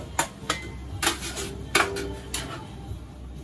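Sweated vegetables for a veal axoa with Espelette peppers are scooped out of a pan, with several sharp metal utensil clinks and scrapes against the pot, close and spaced apart, and no speech.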